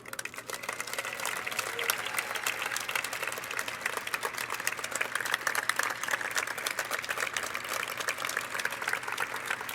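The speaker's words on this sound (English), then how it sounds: "Please help me giving a cheer of appreciation for Dr." Audience applause with scattered cheering at a dinner event honoring Dr. Daniel Von Hoff, a dense, steady wash of clapping from a large crowd lasting throughout.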